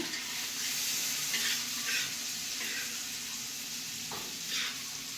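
Masala-coated fish frying in oil on a tawa gives off a steady, close sizzle, with a few brief scraping stirs breaking through the hiss.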